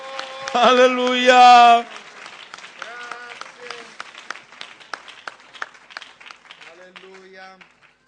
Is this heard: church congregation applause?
yes